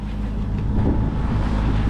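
A sailboat's engine runs steadily with a loud, continuous low rumble and droning hum, mixed with wind noise on open water.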